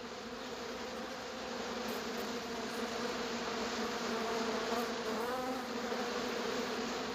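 Bees buzz in a steady, dense drone that holds throughout, fairly faint and with no voices.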